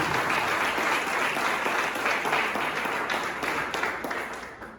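Church congregation applauding together, a dense, steady wash of many hands clapping close and loud throughout, tapering slightly at the end.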